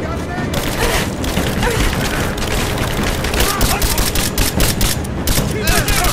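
Sustained close gunfire in a video game firefight in Rise of the Tomb Raider's mines, dense bursts of rapid shots and booms running loud and continuous throughout, with voices shouting under the din.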